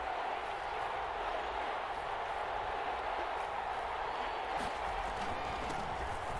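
Steady stadium crowd roar in a Madden NFL football game, a broad continuous wash of cheering building ahead of a big third down, loud and unbroken with no voices speaking over it.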